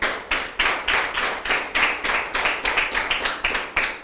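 A church congregation at a Spanish-language sermon claps in unison, a strong, regular rhythmic beat of sharp hand claps, close and loud, with no talking over it.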